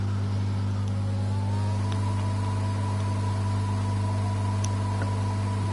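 A racing car engine at full throttle, a steady droning roar with a faint rising whine over it, heard continuously throughout.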